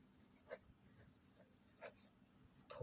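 Faint, brief strokes of writing on a board during a Hindi-medium English grammar lesson, a few soft scratches spaced apart in a quiet room.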